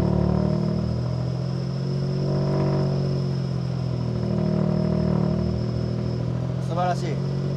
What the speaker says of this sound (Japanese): すげえ音だ。3気筒ですよ。